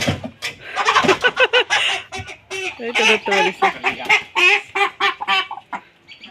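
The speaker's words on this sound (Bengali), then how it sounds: "এই যে দেখেন বড় বড় 2টা মুরগি।" Large chickens squawk and cluck loudly and repeatedly as they are caught by hand and pushed into a bag, close up and agitated, with a person's voice speaking briefly among the calls.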